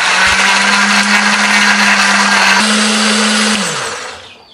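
An electric blender grinds a spice paste of garlic, shallots, ginger, turmeric, coriander and pepper with a little added water. It gives a loud, steady, close whirring drone for about four seconds, then winds down and stops.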